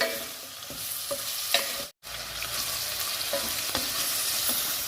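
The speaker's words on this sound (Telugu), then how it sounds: "ఆనియన్స్, పచ్చిమిర్చి, టమాటాలు 2-3 నిమిషాలు ఆయిల్లో వేయించుకోవాలండి." Onions, green chillies and tomatoes fry in oil in a home kitchen for dal pulusu, a close continuous sizzle broken by stirring scrapes and a brief cut of silence midway.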